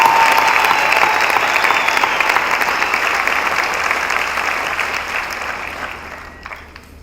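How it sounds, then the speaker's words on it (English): An audience at a Generation Initiative Kenya graduation ceremony applauds, a dense, sustained wash of clapping that stays strong for several seconds, then gradually thins and fades out. "Please join me in giving yourself and your families a big hand of applause."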